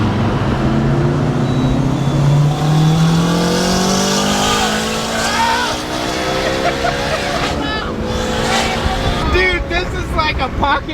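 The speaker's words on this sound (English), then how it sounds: "This boost right there, you'll see it build up." A turbocharged sleeper car at a Houston car meet revs hard, its loud engine note climbing steadily in pitch over several seconds as boost builds, then holding a high, rough roar with background noise from the crowd.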